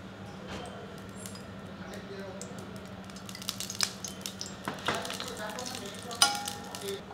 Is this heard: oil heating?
yes